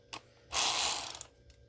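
A ratchet fitted with an 8mm socket works on a nitro engine, its rapid clicking pawl burst running close and alone for about half a second between a few quieter ticks.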